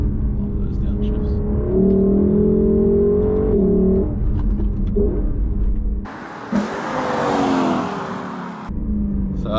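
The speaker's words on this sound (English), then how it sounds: "Love those downshifts." A 2020 Lexus LC 500 engine climbs and drops in pitch through a run of downshifts, loud and close, and one burst is noticeably harsher near the end. No one speaks over it.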